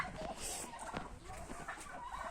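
Turkeys and chickens in a henhouse give faint, scattered clucks and soft gobbling calls close by, layered into a quiet, busy murmur.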